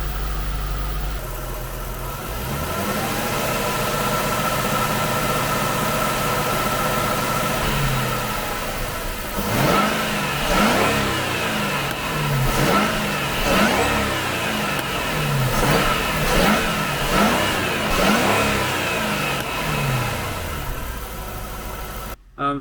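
A supercharged Jaguar S-Type R engine with a newly fitted supercharger belt and upgraded pulley idles steadily, then is revved repeatedly in a series of rising and falling bursts, close and loud, with no voices over it.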